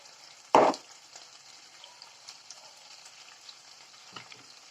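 Carrot, onion and meat fry in a pan with a soft, steady sizzle. A loud clatter from the pan or a utensil comes near the start, then a fainter knock later on.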